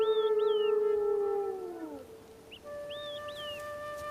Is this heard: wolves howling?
yes